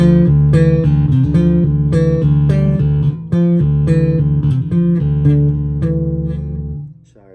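Ibanez GSR 200 electric bass with both pickups on and controls centred, played in a steady run of plucked notes, full and round, loud and close, with a brief gap midway before fading out.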